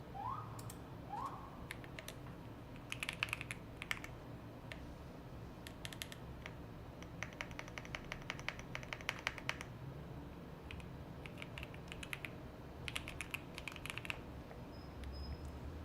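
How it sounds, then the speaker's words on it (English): Quiet clicks of a computer keyboard come in short bursts of keystrokes with pauses between them, close up in a quiet room during web development work, with no talk. "You're looking at my keystrokes"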